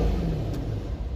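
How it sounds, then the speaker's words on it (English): Mercedes C63 engine, heard from inside the car, giving a brief, deep, throaty rumble that stays fairly steady over a second or so. "I'm gonna give you guys a couple of revs"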